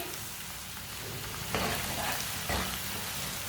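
Ground red chili, turmeric and coriander powder frying in a pan over moderate heat for a yogurt-and-onion curry, a steady rain-like sizzle that swells briefly twice as the spices are stirred, with no talk.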